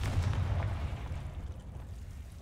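Confringo fire spell blast in Hogwarts Legacy: a low, rumbling explosive boom that fades over a couple of seconds, fairly quiet, with no talk.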